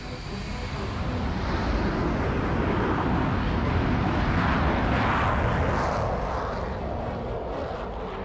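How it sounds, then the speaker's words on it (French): Dassault Mirage III jet roars during takeoff, a loud dense rumble that swells and holds, then slowly eases as the aircraft pulls away. "Le Mirage 3 décolle à son tour."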